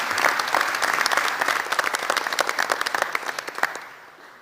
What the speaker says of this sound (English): let's go ahead and give our athletic director a round of applause